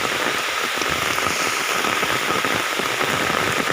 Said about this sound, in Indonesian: kalau misalkan hujan kayak gini tuh bagus juga sih untuk kondisi si sapi kan